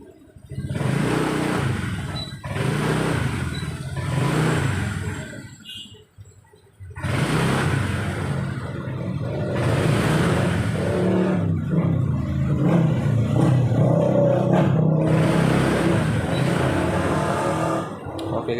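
A Honda Vario automatic scooter's engine, recently fixed of a stuttering misfire, is revved repeatedly in loud, rough bursts with short pauses between them, close up.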